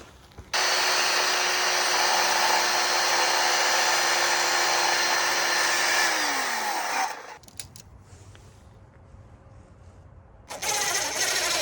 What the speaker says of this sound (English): Now I'm just using my skill saw to miter these corners.